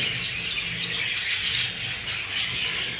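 Budgerigars in an aviary chatter and chirp continuously, a dense high twittering wash from many birds with brief louder bursts.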